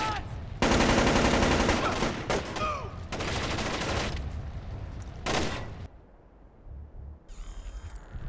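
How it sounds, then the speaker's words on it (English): Enemy gunfire in Splinter Cell: Chaos Theory, with long loud bursts of automatic fire broken by short gaps and a final brief burst after a quiet pause. "He's taking shots!"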